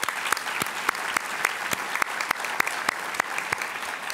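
A luncheon audience claps steadily for EPA WaterSense Partners of the Year award winners, with a moderate wash of applause and a few sharp, distinct claps standing out at regular intervals.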